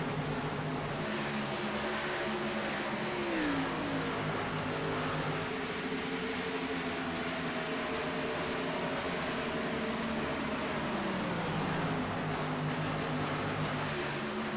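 Race cars circle Dover International Speedway in a sim-racing league, with steady overlapping engine drones and pitch sweeps as cars pass through a continuous loud field of engines.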